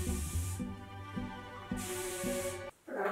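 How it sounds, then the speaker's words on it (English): Spray-on self tanner misted from a bottle onto legs and feet, two short hissing bursts separated by a pause, close up, with a final brief spritz at the end. "I just did a quick little spritz over each one"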